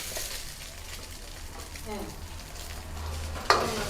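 Curry leaves hit hot oil in a pan during a cooking class, giving a soft sizzle with stirring, capped by a brief sharp crackle near the end.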